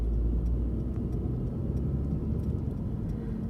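Heard from inside, a car pulls away from traffic lights with a low, steady engine rumble that stays fairly quiet and even.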